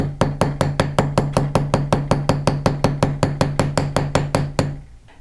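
Texturing hammers strike a fine silver bangle on a steel mandrel: about twenty sharp metallic taps in a steady, even rhythm, close and loud, before stopping.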